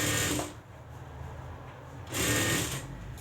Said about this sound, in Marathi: एक सारखी शिलाई मारून घ्यायची आहे.